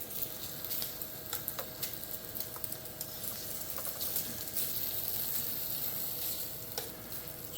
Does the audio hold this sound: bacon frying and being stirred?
yes